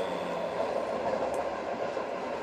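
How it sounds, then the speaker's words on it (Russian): A steady, even rumble of a moving passenger train, the Makhachkala–Saint Petersburg train No. 135, is heard from inside a sleeping compartment. The sound carries on alone with no talk. "я хочу записать сейчас тоже в купе, находясь поезда Махачкала-Санкт-Петербург, 135-й поезд."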